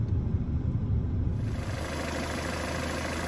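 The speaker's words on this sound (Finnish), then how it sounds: "Ja moottori käy tasaisesti" A Peugeot 407 engine runs steadily at idle, a continuous low hum close by with no talking over it.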